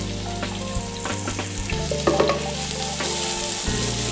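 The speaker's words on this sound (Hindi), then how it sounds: "अब मैं इसमें प्याज डाल दूँगी।" Chopped onions sizzling and frying in hot oil in a pan, the start of a Pakistani paya (trotters) curry, a loud steady crackle with bursts of spatter running throughout, close by and with no talking.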